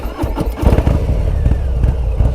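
A motorcycle engine running with a lumpy, uneven idle from overlapping valves and slip-on exhausts, close and loud, with irregular thumping pulses throughout.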